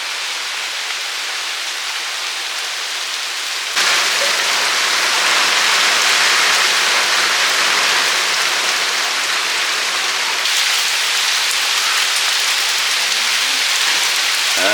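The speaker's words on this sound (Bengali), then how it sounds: "পরপর তো ভালোই বৃষ্টি হচ্ছে, এত বৃষ্টি হচ্ছে পুরো ভিজে গেছে।" Heavy rain pouring at night during a thunderstorm, a steady loud wash of drops that swells louder after a few seconds and keeps roaring without a break.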